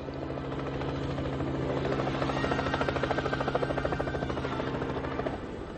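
Helicopter flying, a steady rotor thrum with rhythmic blade chop swelling slightly louder toward the middle before easing, heard alone without talk.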